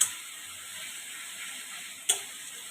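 Fish curry masala for rohu fish jhol frying in oil as it is stirred, giving a steady soft sizzle with one sharp scrape of a spoon near the end.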